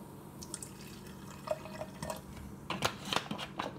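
Liquid is dashed into a morning drink: soft drips and small splashes into a cup, scattered at first, then a busier pouring patter near the end, close and quiet.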